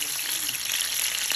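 Sausage frying in a pan makes a steady, close crackling sizzle, a dense hiss with faint pops throughout and no clear speech.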